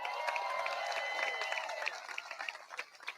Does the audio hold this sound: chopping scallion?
no